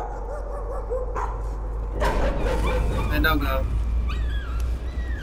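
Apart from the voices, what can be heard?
puppy barking and whimpering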